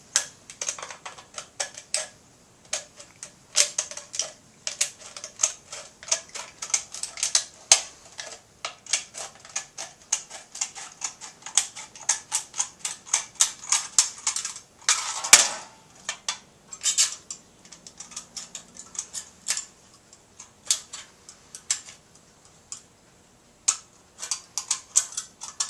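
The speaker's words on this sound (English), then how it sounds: "Now using a pair of scissors, I simply go around" Scissors snipping around a line cut into an aluminium soda can for a homemade alcohol stove, a long run of sharp, irregular metallic clicks and crunches close by, with no talking.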